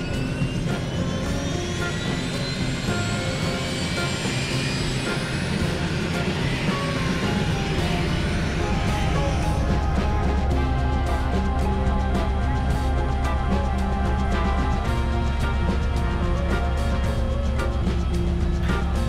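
Steady, loud engine drone of a helicopter in flight over the sea, a continuous low rumble with a whining high tone fading early on.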